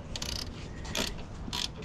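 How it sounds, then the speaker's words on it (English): A ratchet with a swivel head turns bolts on a Ford Transit van cooling fan, giving a few quick bursts of clicking pawl ratcheting separated by short pauses, close up and fairly quiet. "Well, this ratchet works great for that."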